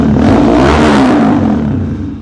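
A motorcycle fitted with an aftermarket silencer revs loudly and close, a steady rough engine roar that holds for about two seconds and eases off slightly at the end.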